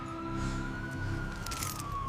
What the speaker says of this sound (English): The siren chirped once,